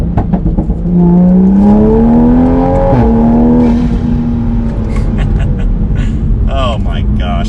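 A Toyota Supra A90 with a straight-pipe exhaust, in sport mode on a warm day, revs hard and accelerates loudly through the gears, the engine note climbing steeply, breaking at a shift, then easing off as a voice speaks.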